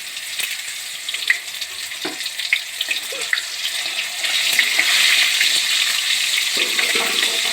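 Tomatoes with salt frying in a pan for mutton biryani, a steady, close sizzle with occasional stirring clicks and scrapes, growing a little louder and denser partway through; no talking.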